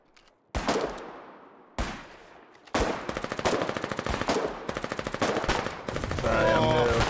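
Gunfire in the war game Foxhole: two isolated loud shots, then a rapid run of repeated automatic fire with steady rhythmic cracks, ending in a dense continuous burst.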